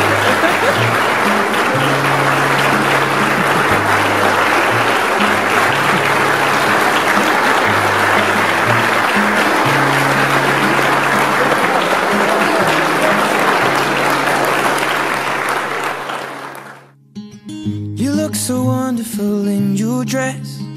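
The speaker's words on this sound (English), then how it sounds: "Let's clap." Wedding guests in the Crystal Tea Ballroom burst into loud, dense, sustained applause for about sixteen seconds, which then fades and gives way to a person speaking.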